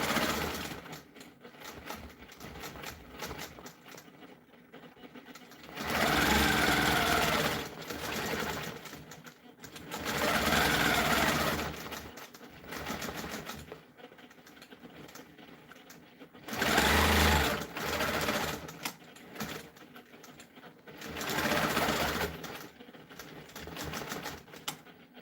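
A sewing machine quilts a half-inch crosshatch along a ruler on a continuous border, running in several steady bursts a few seconds long separated by quiet pauses, close and loud, with no talking.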